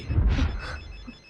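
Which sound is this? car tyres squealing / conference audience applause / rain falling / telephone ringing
telephone ringing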